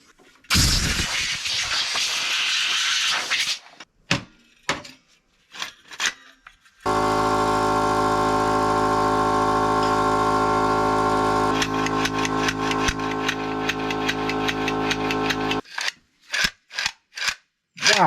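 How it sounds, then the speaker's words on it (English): Compressed air blasting dust out of the seat slide mechanism on an old dump truck seat: a long, loud, steady hissing blast held for several seconds, framed by shorter bursts and clicks before and after. "I think I'm just going to blast the dust out of it, flood it with some lock lube"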